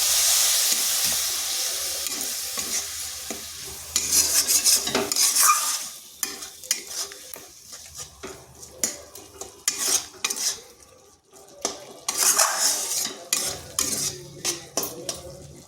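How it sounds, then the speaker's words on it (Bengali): Spice paste fries in a pan with a splash of water while a spatula scrapes and stirs it, producing a hiss at the start followed by irregular clattering scrapes and knocks against the metal, with no talking. "মশলাটা একটু কষে নিচ্ছি এখানে সামান্য জল দিচ্ছি যাতে মশলাটা না পুড়ে যায়"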